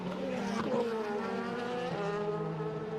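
A DTM race car at Zandvoort charges through the final turn toward the timing line during 2014 qualifying, its engine a loud, sustained howl that climbs in pitch, briefly dips on a gear change, then pulls hard again.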